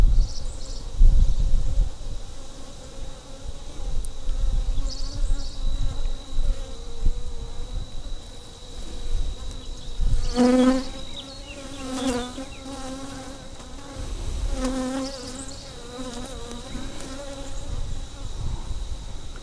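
Honey bees buzz steadily and close around an opened hive packed with honey during a June swarm inspection, with a dense continuous drone and a few louder passes near the ear.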